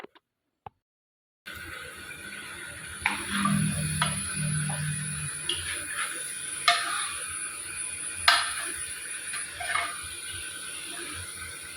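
Chicken pieces are stirred into masala in a pan for a Kerala-style nadan chicken curry, with a faint sizzle and repeated scraping clinks of a spoon against the pan at an uneven pace.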